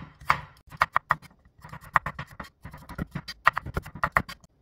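A knife slices a handful of garlic cloves into thin pieces on a cutting board, giving a steady run of sharp, close chopping taps with short pauses, loud and clear with no one talking.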